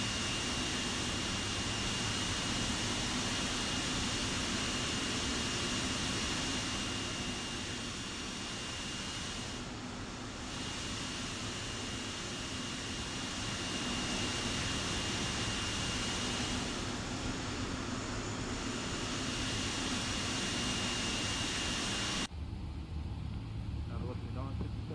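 The engines of a Boeing 777-200ER in the X-Plane 12 flight simulator give a steady, loud jet whine and roar with a high tonal hum. The sound stays constant for a long stretch, then drops abruptly near the end.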